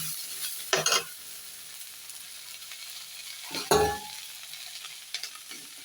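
Drumstick leaves sauté in a pan, with a soft continuous sizzle broken by a few sharp bursts of stirring and scraping.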